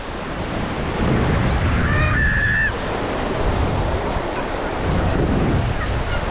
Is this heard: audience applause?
no